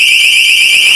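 A motion detector alarm sounds a loud, continuous high-pitched electronic tone, steady and piercing throughout.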